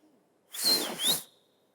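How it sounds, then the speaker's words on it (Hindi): A girl gives a breathy two-part wolf whistle in a TV comedy studio, loud and sharp and about a second long, with near silence before and after. "पहली बार मेरे को देख के लड़की ने सीटी मारी है"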